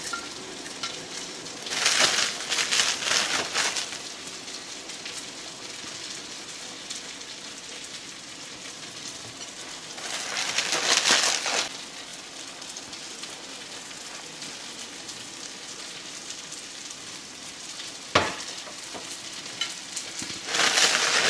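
Onions frying in butter in a pan, a steady soft sizzle with a few louder bursts of crackling, close and fairly quiet, with no talking.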